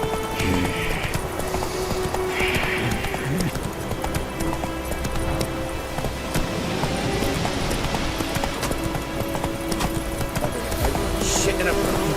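In The Witcher 3 game, a horse gallops in a steady rapid clip-clop of hooves with occasional snorts. Game music and effects play underneath, and a voice talks over it.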